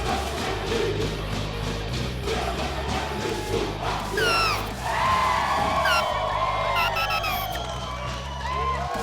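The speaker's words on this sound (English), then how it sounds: "Listen to that crowd." A large crowd roars and cheers at a rugby league grand final, a loud sustained wall of voices with whoops and yells rising over it, plus a voice talking briefly.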